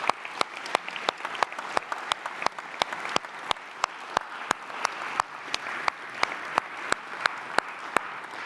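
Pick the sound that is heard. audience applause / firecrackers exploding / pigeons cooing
audience applause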